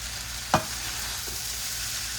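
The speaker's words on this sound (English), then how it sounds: "all I'm doing now is really mixing that rice" Warm cooked rice is stirred through a chicken breast and ground turkey stir fry in a pan, with a continuous sizzle and one sharp scrape of the utensil early on.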